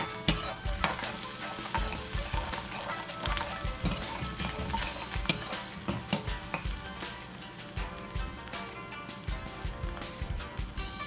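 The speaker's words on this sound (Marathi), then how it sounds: "ह्यामध्ये मी घालत आहे लसूण हा मी ठेचून घेतलेला आहे" Crushed garlic sizzles in a hot pan for prawn Thai green curry, a continuous frying crackle with repeated spoon scrapes and clinks against the pan, close up.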